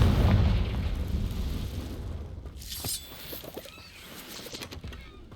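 A Confringo fire spell bursts in Hogwarts Legacy, a loud explosive blast with crackling debris that fades into scattered shattering and smaller pops.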